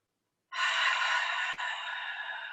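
A single deep breath during a gentle yoga class, one long airy open-mouth exhale after a quick inhale, close and soft, with no talking.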